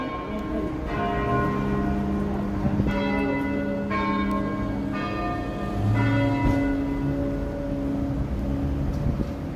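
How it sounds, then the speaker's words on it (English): St. James Cathedral church bells in Chicago chime the 5:30 hour in a run of repeated, ringing strokes, roughly one per second. The tolls carry over steady city street traffic and outdoor hum. "there's your 5:30 chimes for St. James Cathedral"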